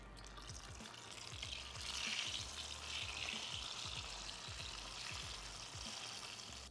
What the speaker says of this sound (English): I'm just gonna dump it in the fryer